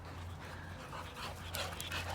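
Several dogs and puppies pant rapidly while playing fetch, quick breathy gasps close by, with a faint whimpering tone over a low hum.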